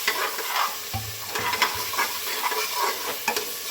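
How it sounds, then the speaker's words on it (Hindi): Spice paste sizzling and frying in a pan while a spoon stirs and scrapes through it, a steady hiss with soft rhythmic scraping strokes, close up. "और इसको भी थोड़ी देर तक घुमाएंगे, चलाएंगे ताकि अपना कच्चापन जो है वो छोड़ दे"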